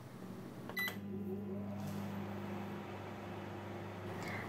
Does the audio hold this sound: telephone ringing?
no